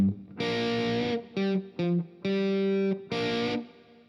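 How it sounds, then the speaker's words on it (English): An electric guitar with heavy distortion plays double stops on the third string with choked bends, five sustained chords in sequence with short gaps. Each is cut off abruptly and none is under talk. "double stop 3s, choking the bend right after"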